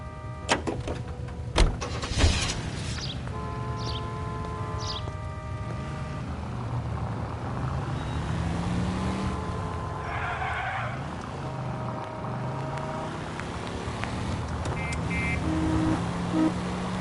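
Car engine driving in the L.A. Noire video game, a steady mid-level motor drone with tire squeals and gear shifts, heard alone without talk.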